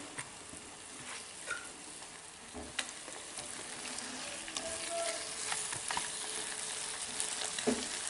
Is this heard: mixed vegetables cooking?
yes